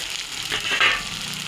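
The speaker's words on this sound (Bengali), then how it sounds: "আমার এই যে মশলাটা কষানো হয়ে গেছে এবারে আমি এতে বেগুনটা দিয়ে দিলাম" Eggplant pieces hit a pan of cooked-down spice paste for a Bengali fish curry, giving a short, loud swelling sizzle that peaks briefly and settles into a steady fry.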